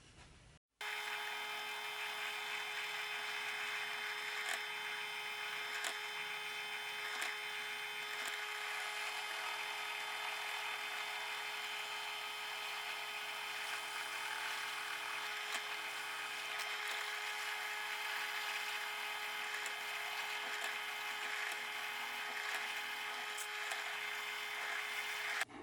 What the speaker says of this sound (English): go over to the drill press, get this first hole drilled through